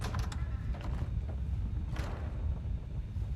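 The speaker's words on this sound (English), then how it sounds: "That door just shut." A door shuts in the video game Fallout 4, modded with Silent Hill content: a creaking mechanical scrape with a thud around the middle, set over a low, rumbling ambient drone.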